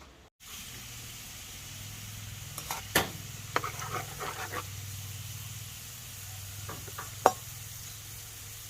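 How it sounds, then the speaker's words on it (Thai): Sliced shallots and garlic frying in oil make a soft, continuous hiss, punctuated by a few stirring scrapes and light clatters, with a faint low hum in the background. "ขั้นตอนนี้ก็คือเจียวหอมเจียวกระเทียมเนาะ"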